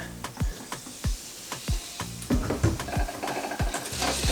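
Spoon stirring a non-alcoholic cocktail topped up with Sprite in a glass, giving a steady run of sharp clinks and swirling clatter, close and fairly loud, with no voices.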